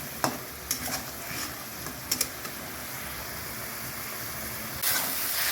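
Chitol fish curry sautés in a pan, giving a steady low sizzle and hiss with a few sharp clinks from stirring, close and moderately quiet, with no voices.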